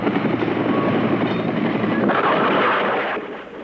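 Helicopters lift off from the U.S. Embassy, a loud, dense rotor and engine roar sustained throughout before easing slightly at the end, with no clear talk.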